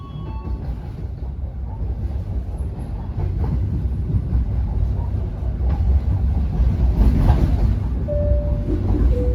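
The Ciremai train rolls into Haurgelis station in Indramayu, West Java, with a steady loud rumble of wheels and carriage noise from inside the train, the sound swelling slightly partway through, and a brief higher tone near the end.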